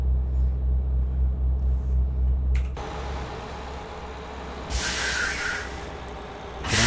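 A heavy truck in a driving simulation game on a Turkey map rumbles along with a low engine drone, broken by sharp bursts of hissing air brakes near the end.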